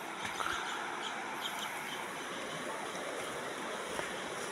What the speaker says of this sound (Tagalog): naririnig niyo ba ang tubig?